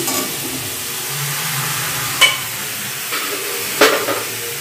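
Boiled vegetables tipped into a pan of spiced masala with dried red chilli powder, giving a steady soft sizzle with a couple of sharp scrape-and-splash accents as they are stirred in, no voices.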